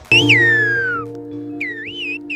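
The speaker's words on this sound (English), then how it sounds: "In the island of La Gomera, they have a very distinct whistling language, which looks something like this" Silbo Gomero, the whistled language of La Gomera, rings out as two clear, loud pitch-gliding whistled phrases separated by a short pause, over a steady low hum in the background.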